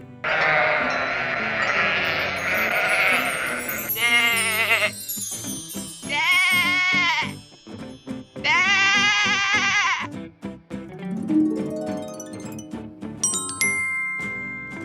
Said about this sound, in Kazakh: Қой. Қой.